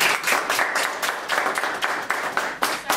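After a university anthropology alumni lecture, the audience gives a brief, close round of applause, with many hands clapping in a dense, uneven burst.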